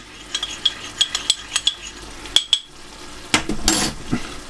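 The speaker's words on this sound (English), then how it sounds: "a tablespoon of corn flour and two tablespoons of water, mix them together in a ramekin" Corn flour and water being stirred together in a ramekin for gravy, with a spoon clicking and scraping rhythmically against the dish, close and clear, followed by a brief louder clatter.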